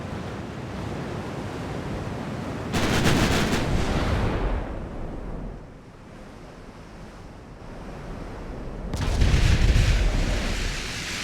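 Naval guns firing armor-piercing shells in Ultimate Admiral: Dreadnoughts, two heavy booming salvos spaced several seconds apart, each rolling into a long rumble over a constant wash of wind and ocean surf.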